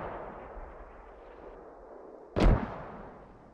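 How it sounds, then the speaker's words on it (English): A single heavy mortar blast in the video game Squad, a sudden booming thump that cuts through a steady low rumble of battlefield ambience, then fades into a brief rolling tail. "Mortars."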